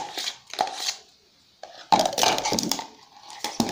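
Sponge cake batter of matsoon, soda and dry ingredients mixed in a bowl, with irregular close clinks and scrapes of a utensil against the bowl in short bursts separated by pauses.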